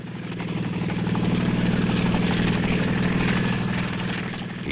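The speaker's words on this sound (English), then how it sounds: "He sure is glad to see our helicopter." A 1968 helicopter on a rescue flight over desert mountains, its engine and rotor making a steady, loud, rhythmic chopping drone that swells and then eases slightly.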